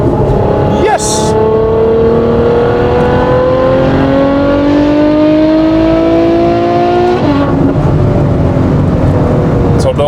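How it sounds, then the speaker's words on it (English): The V12 engine of a Novitec Ferrari F12 N-Largo R revs hard, its loud, close howl climbing steadily in pitch for several seconds before a sharp break and lower drone. "So those high revving V12s from Ferrari, there's nothing better."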